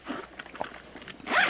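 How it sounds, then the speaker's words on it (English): A zipper on a fabric knitting and crochet yarn bag is pulled in a few short tugs, ending in one longer, louder zip, close up and quiet. "There is a zipper right here."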